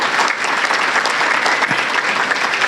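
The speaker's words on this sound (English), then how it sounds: "how about a round of applause for our Chamber Board of Directors?" Audience at a chamber of commerce small business awards ceremony applauds its Chamber Board of Directors, a loud, steady wash of clapping that fills the room throughout without pause.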